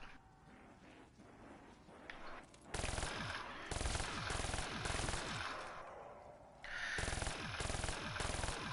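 A light machine gun in a zombies shooter game fires in long sustained bursts of rapid, loud rattling shots, pausing briefly between strings of fire.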